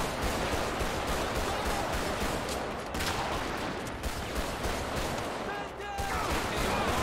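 Dense video game gunfire from GTA 5 with the LSPDFR police mod, several shooters firing in a steady, crowded barrage that keeps going for the whole stretch, with no quiet gaps.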